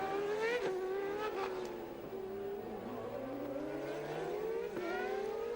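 Formula One race cars from the 1991 season, including Mansell's car and a Ferrari, wail at high revs, with engine pitch rising and dropping through shifts and a couple of cars passing close, with no voices.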